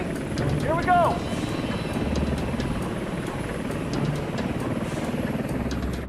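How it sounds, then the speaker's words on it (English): A rescue helicopter roars continuously during a storm-at-sea wire hoist, a loud, steady rotor and engine drone with rhythmic blade chop filling the whole stretch, while a person speaks over it. "no one had ever been hoisted by a wire into a roaring helicopter"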